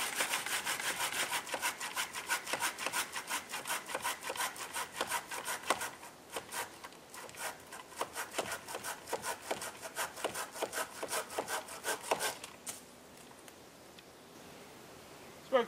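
A homemade saw cutting through tree branches, with rapid, rhythmic back-and-forth rasping strokes close up that slow and change near the end before the cut finishes.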